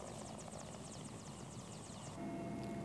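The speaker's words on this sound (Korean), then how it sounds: "이것은 저희들이 주로 이용했던 헬기입니다." Helicopter flying over the Ussuri River region of the Russian Far East, a steady loud rotor drone with rapid blade chopping throughout and no talk.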